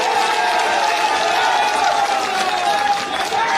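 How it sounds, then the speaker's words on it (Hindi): Sustained crowd noise with applause and cheering at an outdoor political rally, a dense, steady roar of many people that stays loud throughout. "जोरदार तालियों से उनका स्वागत करें"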